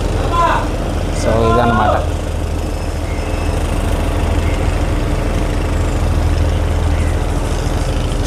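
A houseboat engine, struggling and smoking on startup, idles with a low, steady rumble as the boat reverses; someone speaks briefly near the start.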